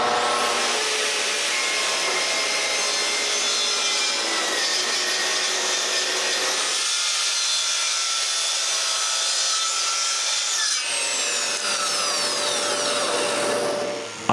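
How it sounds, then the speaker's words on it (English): Continuous power sanding of bookcase wood with 220 grit sandpaper, a loud steady whirring hiss that changes tone partway through, with no talking. "I give it a nice sanding of 220 grit on all the sides"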